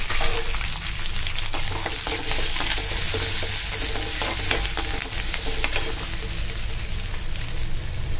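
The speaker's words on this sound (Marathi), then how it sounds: "आलं लसूण, 1 हिरवी मिरची तेलामध्ये परतून घेणार आहे" Ginger, garlic and a green chili fry in hot oil with a continuous, close crackling sizzle and scattered pops, sounding like brisk stirring throughout, with no one speaking.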